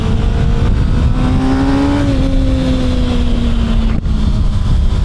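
A Kawasaki ZX6R 636 motorcycle is ridden, its engine droning steadily with a rising and falling pitch as it revs under loud wind rush, heard from on the bike.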